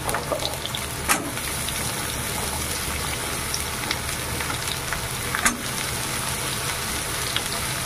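Pointed gourd (potol) frying with onions in a pan gives off a steady, close sizzle with soft crackles and a few sharper pops as the oil spits.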